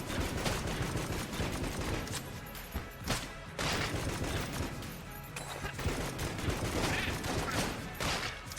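Gunslinger gun firing in the video game Enter the Gungeon, a dense, continuous barrage of loud rapid shots and crashing impacts layered with game effects, steady throughout with no pauses.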